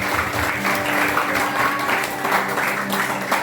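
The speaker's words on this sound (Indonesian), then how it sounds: "tepuk tangan buat Tuhan Yesus" Sustained applause fills a church youth praise and worship service, a dense, steady wash of many hands clapping with slight swells throughout, and no clear voices over it.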